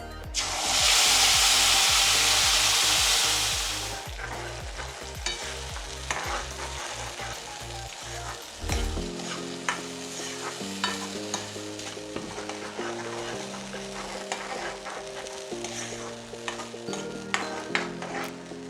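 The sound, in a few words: spice paste frying with cloves, cardamom, cinnamon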